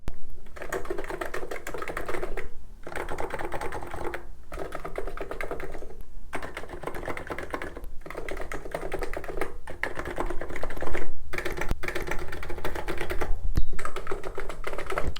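Continuous typing on a Cox Endeavor capacitive keyboard with 50g switches, a dense close patter of muted, thocky keystrokes in bursts separated by short pauses, with no talking.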